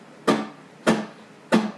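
Guitar notes from the Muleskinner lick in A: three bright, sharply picked attacks spaced evenly, each ringing briefly with a low sustained tone, close and alone.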